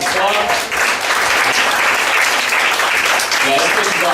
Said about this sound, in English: Give him a round of applause for putting together an awesome club.